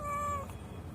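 A single short, clear meow from a mother cat being given water to drink, close and alone with no talking.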